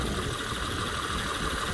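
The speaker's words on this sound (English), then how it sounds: "But this engine is smooth." A 2008 Acura TL S-type with a 3.5 VTEC engine idles smoothly, giving a steady, even hum with no revving, fairly quiet and without talk.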